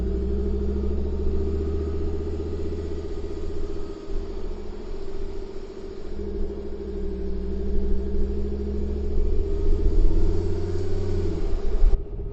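A four-wheel drive rolls onto hard, flat sand on a Queensland beach, its engine a steady, close, low rumble with a slight rise in revs toward the end and no talking.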